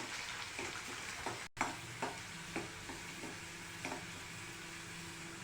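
Whole, lightly crushed garlic cloves fry in a pan for garlic pickle, giving a continuous close sizzle broken by a few soft stirring scrapes and clatters.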